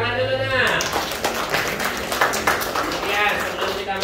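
Students in an Indonesian classroom lesson clap together in a brief burst of scattered applause, with a teacher's voice heard at the start and voices mixed in throughout.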